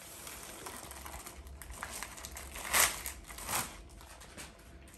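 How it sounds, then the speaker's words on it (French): Packaging from home gym equipment is unboxed and unwrapped, with soft, continuous rustling broken by two louder crinkling bursts close by. "Juste déballer pour vous le montrer un peu tout ce que j'ai acheté."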